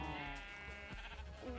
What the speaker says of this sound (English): the cows are being extra loud